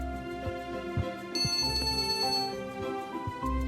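A phone ringtone plays a bright, repeating electronic melody at moderate volume, with a few soft thumps underneath.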